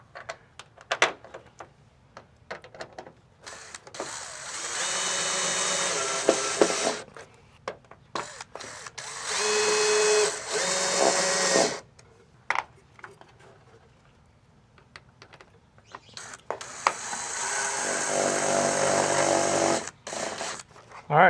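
Power drill driving screws to install mounting brackets for a Tapo C575D 4K security camera, several loud whirring bursts of a few seconds each separated by pauses with small handling knocks.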